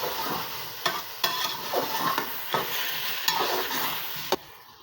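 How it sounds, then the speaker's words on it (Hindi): Minced meat keema being bhuna-fried with spices in a pan, Lucknowi style, giving a loud continuous sizzle with repeated spatula knocks and scrapes at an uneven pace, and no voices. "अच्छी तरह से मसालों को कीमे के साथ भून लेंगे"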